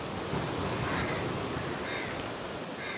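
Sea waves wash steadily onto Colva Beach in Goa, a broad continuous surf roar with a faint breezy hiss over it, close and fairly even throughout with no voices.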